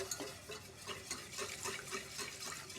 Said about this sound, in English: Just keep adding that milk, whisking